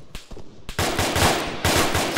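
Gunfire in a military video game: sharp bursts of rapid automatic shots, loud and close, in two clusters separated by a brief pause, with a few single cracks at the start.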